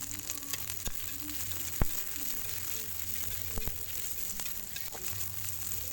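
Shallots and chilies sautéing in oil in a pan, a steady soft sizzle with a few sharp clicks of a utensil against the pan.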